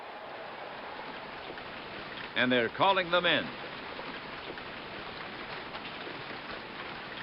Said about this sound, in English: Well, folks, the sky has darkened again. Here comes the rain.